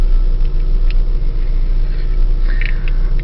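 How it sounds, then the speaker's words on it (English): Steady low rumble of a car engine idling while warming up, heard close and continuous, with a brief faint squeak near the end. "I'm getting the car warmed up here"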